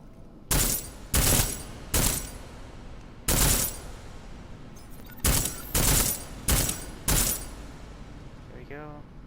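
Armor-piercing rounds are fired in Deus Ex: Mankind Divided as eight sharp, loud gunshots in uneven bursts, separated by short quiet gaps, with a small electronic chirp near the end.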